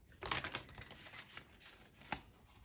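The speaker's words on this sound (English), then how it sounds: "So a few more shuffles now." Quiet, close shuffling of a deck of tarot-style cards on a table, with soft riffling flutters and a couple of sharper taps.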